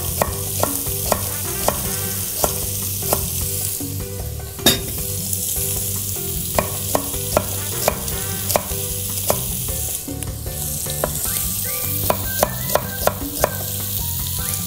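Fatty meat sizzles in its own rendered fat in a pan while cooking rigatoni carbonara, a steady loud frying hiss punctuated by regular sharp ticks and clicks throughout.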